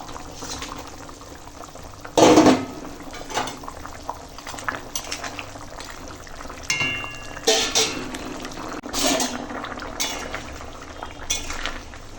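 Fried katla fish pieces go into a simmering curry, giving a loud splash and clatter, then bubbling liquid, utensil knocks and intermittent scraping throughout.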